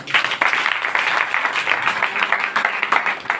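A Hindi-speaking church congregation claps together during a sermon, a loud, thick wash of hand claps that stays steady and near from start to finish.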